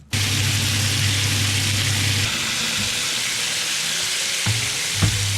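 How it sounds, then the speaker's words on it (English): Pork belly pieces fry in a pan over high heat, giving a loud, steady broadband sizzle from start to finish with a low hum underneath and a couple of brief knocks near the end. No one speaks. "In a pan, add in all the pork bellies. Fry in high heat for 3 minutes."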